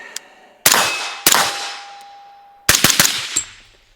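Suppressed gunshots through a YHM Fat Cat suppressor: one sharp report, a second about half a second later, then a quick cluster of three or four shots, each with a short metallic ring and decay, close and loud.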